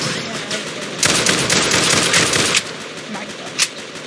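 A gun in a World War 1 video game fires rapidly until the magazine runs dry, a loud dense burst of overlapping shots with a few sharper cracks standing out near the end, and no speech.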